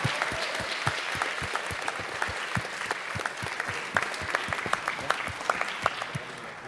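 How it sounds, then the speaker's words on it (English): An audience at a robot sumo competition finals applauds both teams, a dense, even round of clapping with sharp individual claps standing out, carrying on alone without talk. "could we give a huge round of applause for both teams putting in such a great effort for this whole competition"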